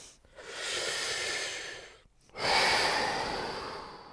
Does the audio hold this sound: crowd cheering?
no